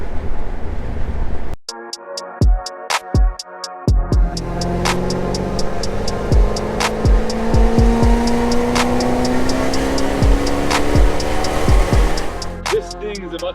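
Engine-swapped Mercedes AMG widebody with an M119 6.0 V8 driven hard, loud engine bursts and a long rising rev with sharp crackles and pops, close and powerful throughout.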